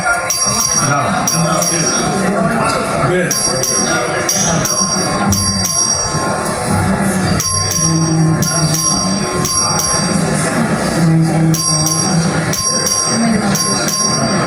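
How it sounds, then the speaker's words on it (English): A bell rings in the Texas House legislative chamber to call a record vote, sounding in repeated bursts throughout over a low murmur of the room. "Clerk, please ring the bell."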